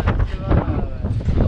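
Strong gale-force wind of about force six to seven buffets the microphone outdoors, a loud continuous roar with gusting swells, while people talk over it.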